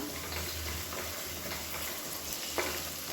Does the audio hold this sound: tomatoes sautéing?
yes